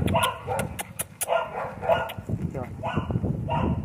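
A one-year-old breeding dog barks close by, a run of sharp barks and yips in quick bursts, with a voice audible alongside.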